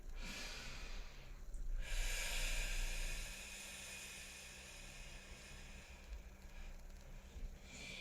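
Slow, close breathing during a functional-flow stretching class: a long hissing inhale-exhale swells over the first few seconds, then fainter breaths continue over a low steady background hum, with no talking.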